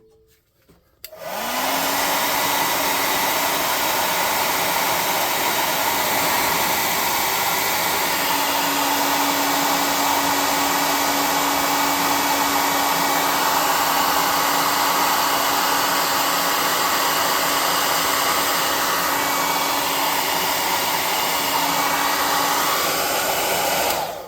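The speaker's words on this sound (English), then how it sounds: "We're going to air gun these." Compressed-air gun blowing a continuous loud hiss over model terrain trees, starting abruptly after a brief quiet moment and holding steady nearby with no talking.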